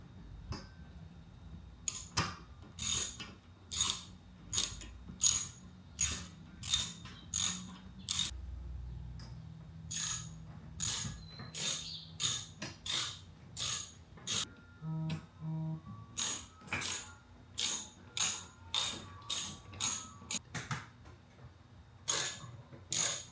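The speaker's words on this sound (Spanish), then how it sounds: "hay que apretar todas estas tuercas" Ratchet wrench tightening nuts on a roof rack mounted on a Tesla Model Y, clicking in repeated rapid bursts with short pauses between strokes, close and clear with no speech.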